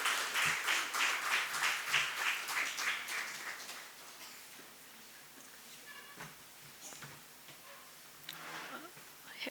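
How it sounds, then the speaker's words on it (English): A conference audience applauds a speaker onto the stage: dense, steady clapping for about four seconds, then fading to sparse claps and room murmur. "With a huge round of applause, can I please invite Ms. Monisha Raman onto the stage."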